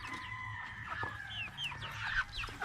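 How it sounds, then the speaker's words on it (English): Several chickens cluck softly and steadily nearby, with short rising calls over a quiet farmyard background. "All right, so those are chickens."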